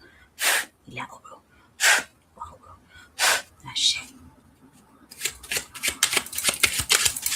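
Tarot cards are shuffled in a few separate bursts of crisp, breathy riffling, then a quicker, denser run of flicking and tapping follows.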